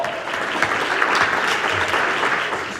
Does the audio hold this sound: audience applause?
yes